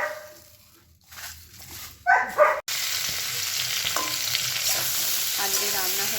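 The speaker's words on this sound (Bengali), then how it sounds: "একটু আলুটা কপিটা ভেজে নিই" Potato and cauliflower fry in a pan, starting with a sudden loud sizzle that continues as a steady, close hiss after a few quieter handling sounds.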